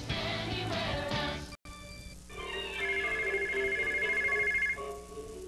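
A telephone rings in a TV commercial: a sustained electronic ringing tone, moderately loud and alone, follows a brief gap and a few other sounds.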